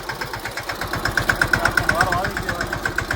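Close, loud rhythmic chugging of a tractor engine running on the way to a farm, even pulses repeating steadily, with a faint voice mixed in briefly.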